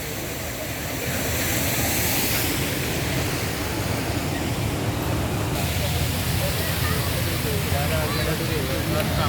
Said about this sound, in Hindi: ये पानी ये जा रहा है।